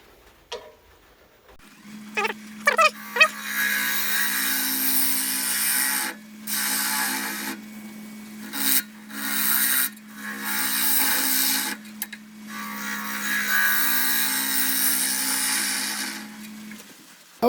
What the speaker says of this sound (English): I'm actually using the bowl gouge because I want to kind of hollow back a little bit.